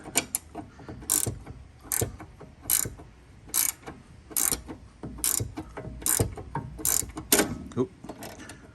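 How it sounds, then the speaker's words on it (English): A ratchet wrench clicks in repeated bursts while turning a pinch bolt on the front control arm of an Audi B8 A4/A5/S4/S5/Q5, each stroke a loud, close, rhythmic ratcheting about every half second with no talking. "Go ahead and turn your ratchet again."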